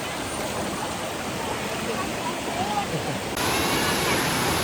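Rushing water of a waterfall in a village setting, a steady broadband roar that grows louder near the end, close and continuous with no voices.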